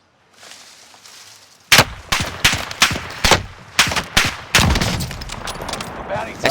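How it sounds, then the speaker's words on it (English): Gunfire rings out in a shooting video game, a run of loud sharp shots and short bursts at an irregular pace over a low background hum, with no talk. "I think I shot a bit early then."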